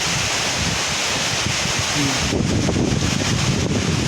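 Loud, continuous wind buffeting the microphone, a broad roaring rush that grows stronger partway through.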